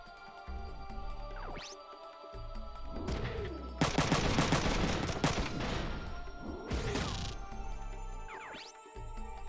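Mech weapons fire in Front Mission 3, a turn-based combat game: a dense central volley of rapid shots lasting about three seconds, framed by whirring mechanical movement sounds before and after, loud and close with no talk.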